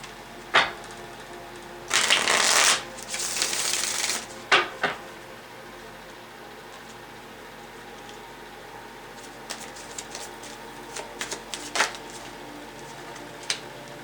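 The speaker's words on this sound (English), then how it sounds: "One more shuffle." Cards being shuffled in short riffling bursts, followed by a few scattered taps and flicks of cards on a surface; fairly close and quiet otherwise.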